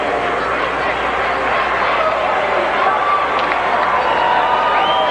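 Dense crowd roar from a high school hockey game between New Trier and Marist, a steady loud wash of many voices and cheering filling the arena, with a commentator talking over it throughout.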